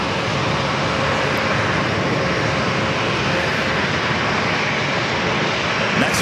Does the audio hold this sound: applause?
no